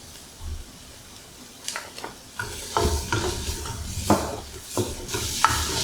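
Brown sugar being stirred into softened onions in a soup pot for Thai spicy pumpkin soup, with scraping spoon strokes and light clinks against the pot that come irregularly and grow busier, no talking.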